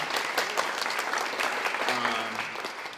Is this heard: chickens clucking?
no